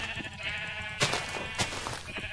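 A sheep bleats in the Minecraft Crazy Craft game, a short wavering in-game call heard alone without talk, with a couple of sharp clicks.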